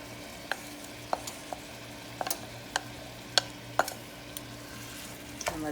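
Ground beef with one small chopped yellow onion cooking in a chili pan, giving a steady low sizzle broken by occasional sharp clicks of a utensil stirring against the pan, with no voices.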